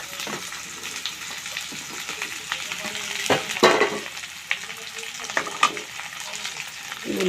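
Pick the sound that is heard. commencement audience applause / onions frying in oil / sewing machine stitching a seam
onions frying in oil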